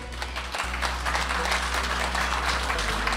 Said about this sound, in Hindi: मैं चाहूँगी कि आप लोग उनके लिए तालियां बजाएं।